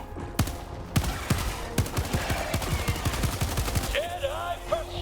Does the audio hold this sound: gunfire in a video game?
yes